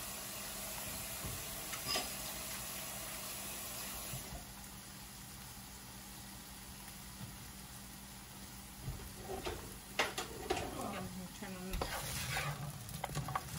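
Sliced onions fry in a pan and get stirred now and then, a steady low sizzle running throughout with occasional scraping strokes that grow busier toward the end.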